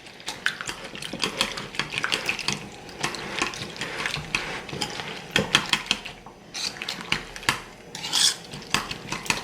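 Eggs with salt, nutmeg and basil are whisked in a bowl, producing rapid, uneven metallic clinks and scrapes of the whisk against the bowl at close range.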